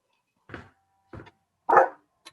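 A dog barks in a home during an online game session, three short separate barks spread over about two seconds, moderately close with no talk over them.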